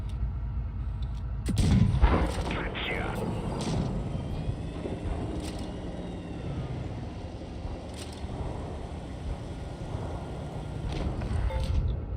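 A tank gun fires in World of Tanks with a sharp, heavy boom near the start that rolls off into a long echo, followed by a low rumbling battlefield ambience and faint distant shots.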